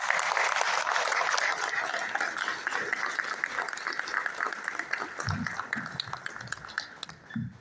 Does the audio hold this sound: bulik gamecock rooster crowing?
no